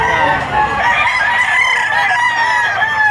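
A rooster crows loudly and close by at a chicken market in Lipa, Batangas, one long strained call filling the whole moment.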